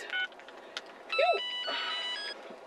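A telephone rings in a quiet room, with two or three bursts of electronic ringing, near and fairly loud, and no talk over it.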